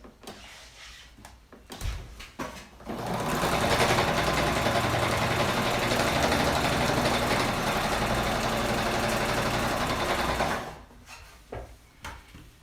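A sewing machine runs steadily for about eight seconds, stitching the seam of a cottonwood pouch, with quieter handling noises before and after.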